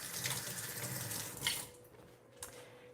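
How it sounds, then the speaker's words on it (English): Tap water runs steadily into a sink while hands are rinsed under it, with splashy bursts as the stream is interrupted, then the flow thins; fairly quiet and close, no talking. "I'll rinse my hands"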